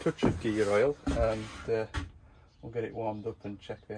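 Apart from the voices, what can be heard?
None of the usual background noises is heard.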